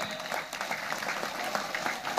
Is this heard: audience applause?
yes